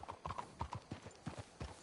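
Horses walking in Red Dead Redemption 2, their hooves clip-clopping in a steady, even rhythm across the whole stretch, fairly close and clear, with no talk over them.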